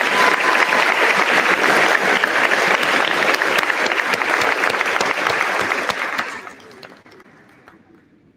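Audience at a senior awards ceremony applauds newly announced class officers, with dense sustained clapping filling the room before tapering off and fading out over the last two seconds.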